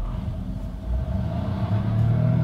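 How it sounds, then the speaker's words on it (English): A Lynk & Co 01 plug-in hybrid, running on both its combustion engine and electric drive, pulls away hard from traffic lights, its low steady engine rumble and road noise building continuously without a break. "we can also do power acceleration now from the traffic lights"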